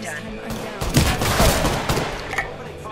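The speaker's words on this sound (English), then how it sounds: "Opening fire on the enemy" Rapid bursts of gunfire in the battle royale shooter Apex Legends, several sharp shots and short volleys cracking over a busy background, fairly close and loud.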